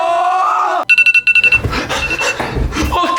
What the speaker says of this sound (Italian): Perché suona da questa sveglia alle 4 del mattino?